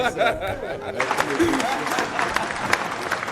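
An audience breaks into moderate applause mixed with chatter and light laughter, and people keep talking over the clapping for its few seconds.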